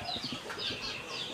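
Soft clucking and squawks from several chickens nearby, with a few flutters, in a steady farmyard din.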